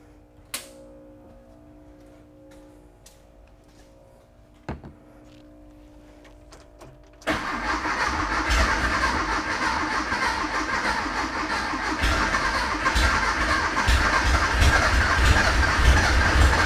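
Junkyard Porsche 914 engine with no muffler cranking into life, a few sharp clicks and knocks in near silence before the engine catches and settles into a loud, raw, continuous running roar that grows slightly louder toward the end.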